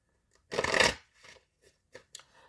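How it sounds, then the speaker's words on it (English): A quick riffle of tarot cards being shuffled, followed by a few soft taps and clicks as the deck is squared, close and quiet. "We'll do one more shuffle."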